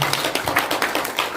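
Audience clapping at a Korean book-launch event for a complete sijo poetry collection, given in thanks to the publisher; a short burst of scattered, moderately close hand claps with an uneven rhythm and no voices.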